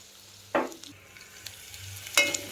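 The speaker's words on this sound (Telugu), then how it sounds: "క్యారెట్ ముక్కలు వేసి మధ్యలో కొంచెం కలియదిప్పాలండి" Carrot pieces for a carrot curry cook in a pan under a quiet, steady sizzle, broken by two sharp spoon-scraping stirs, close by with no talk.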